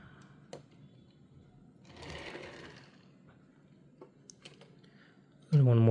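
A Hot Wheels Ford GT toy car rolls across a surface in a brief, soft whirring burst amid faint clicks, and a voice comes in loudly at the end.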